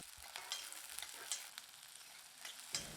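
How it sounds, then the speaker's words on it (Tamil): Shallots and garlic cloves sauté in hot oil in a pan, giving a continuous close crackling sizzle with small pops throughout. "சின்ன வெங்காயம் பூண்டு பல் ஓரளவுக்கு வதங்கிட்டு இருக்குங்க"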